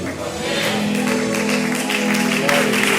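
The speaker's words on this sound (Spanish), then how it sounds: "Si ese aplauso es para Dios, se lo debería de dar muchísimo, muchísimo" A church congregation at a convention applauds with steady, dense clapping that fills the room, mixed with a sustained tone and voices over it.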